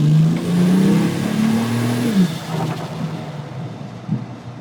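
A turbocharged car engine revs hard on a gravel surface, intake and exhaust roaring loudly, then the pitch drops and it settles to a rougher idle with small blips.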